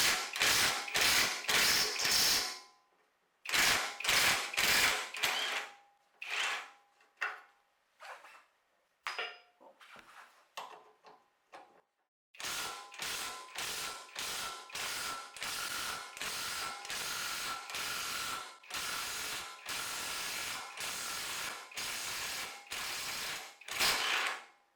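An air impact gun works a nut on the front end of a Mini Cooper R56 in rapid, loud, near bursts of hammering rattle. Short gaps and a few lighter taps separate the longer runs, with no talk.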